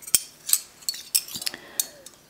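Metal salad serving spoons clink against each other as they are handled, several sharp, bright taps at irregular intervals with quiet gaps between.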